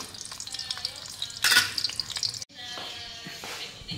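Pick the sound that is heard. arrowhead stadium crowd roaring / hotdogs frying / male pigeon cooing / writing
hotdogs frying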